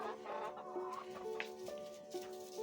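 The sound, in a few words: chickens clucking in their coop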